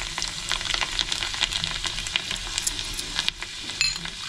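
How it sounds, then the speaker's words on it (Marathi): Garlic sizzles in hot ghee for a tadka, a steady crackling fry with small pops and a faint scrape of stirring, close and moderately loud, no talking. "तुपातीने लसूणची फोडणी द्यायची आहे. तडका देते. त्याच्यामध्ये लसूण टाकते."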